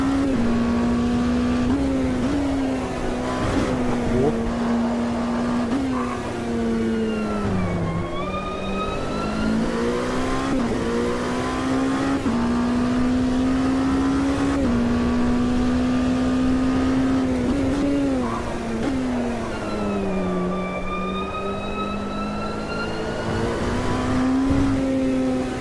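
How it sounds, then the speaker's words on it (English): The Orca car's engine in a racing video game holds a loud, continuous whine, its pitch dipping and climbing through gear changes and throttle lifts, close and alone throughout. "I do really love the engine sound on this."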